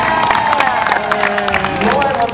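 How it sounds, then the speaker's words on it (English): A crowd applauds and cheers for the finalists at a competition, with dense clapping, whooping voices and an announcer talking over the steady din. "Ladies and gentlemen, big round of applause for your finalists."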